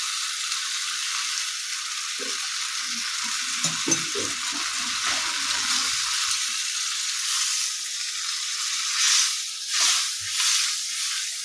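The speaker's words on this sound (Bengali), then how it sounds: "এই জলটাই আমি দিয়ে দেবো একটু গ্রেভি করার জন্য" Chicken curry sizzling and frying in a pan as water goes in for gravy, a steady broadband hiss with soft stirring and bubbling, close and fairly loud, with no talking.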